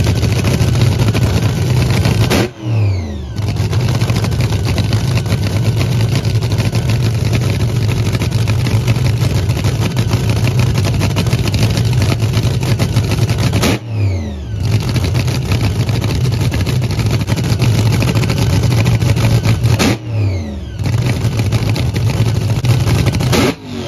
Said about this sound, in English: The nitromethane cars are back on